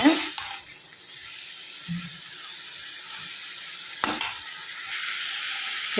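Drumstick leaves sautéing in oil, a quiet hiss of frying under a couple of sharp scraping stirs and pan knocks, mostly steady and close.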